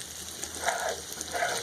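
Onions and bacon frying in a pan for green beans, a steady low sizzle with soft crackles and a few brighter pops, close and fairly quiet, with no voices.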